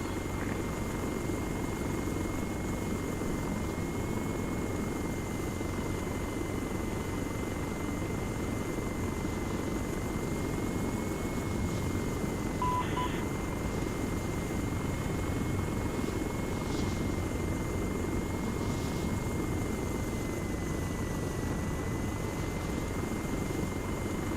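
A fire support helicopter in Arma 3 drones steadily throughout, a dense constant rotor and engine roar with an even hum and no pauses, heard without talk.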